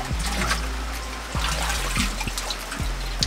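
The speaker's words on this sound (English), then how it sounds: "water is flowing from the drain into the water barrel." Rainwater runs from a drain into a water barrel, a steady trickling and splashing stream heard close up with no voices.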